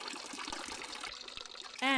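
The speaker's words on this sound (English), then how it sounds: "Sip pure, cool spring water from its many fountains." Spring water trickles steadily from fountains at a rural retreat in the Alpujarra, Andalucia, a continuous close splashing stream that ends with a brief loud tonal burst.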